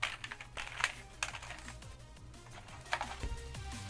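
Typing on a computer keyboard produces quiet, irregular clicks and taps in short clusters with small pauses, close and soft, with no talking.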